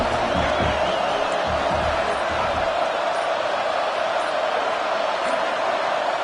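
A stadium crowd in a College Football 26 game roars in a dense, continuous wash of noise that stays loud throughout, during an Arizona vs Syracuse game just before a false start.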